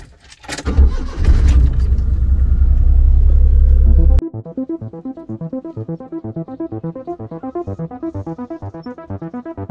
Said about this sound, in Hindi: गाड़ी अभी गर्म करते हैं थोड़ी सी और फिर चलते हैं